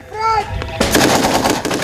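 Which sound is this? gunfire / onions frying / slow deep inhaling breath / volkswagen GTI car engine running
gunfire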